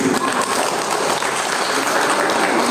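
A crowded workshop audience of school principals claps together, a thick continuous wash of many hands at steady loudness with no break, filling the room.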